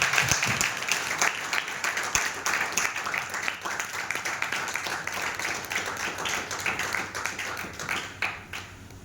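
An audience applauding at a gathering, a sustained, moderately loud patter of many hands that carries on for several seconds before thinning out near the end.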